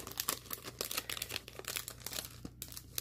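Packaging around sticker sheets being opened, soft close crinkling and rustling in irregular bursts, quiet and alone.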